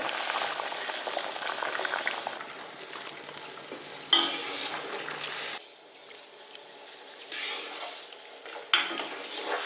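A tomato fish soup is stirred and simmered in a pot, with steady bubbling and boiling, scraping and clinking of utensil against the pot, and occasional louder knocks.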